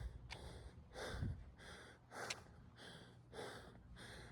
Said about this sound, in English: Breathing so hard.